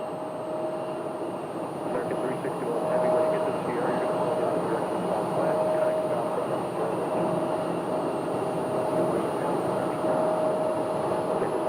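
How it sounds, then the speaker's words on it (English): A Boeing 787 Dreamliner taxiing for departure at an airport, a steady distant engine drone and whine holding throughout with a faint high tone above it. "We've got a 787 Dreamliner taxiing for departure."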